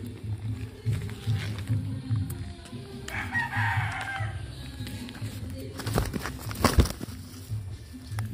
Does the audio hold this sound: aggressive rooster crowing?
yes